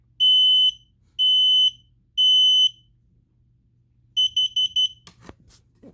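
A household smoke alarm under its monthly test gives three loud, shrill, evenly spaced beeps, then a quicker cluster of short chirps, followed by a couple of sharp clicks.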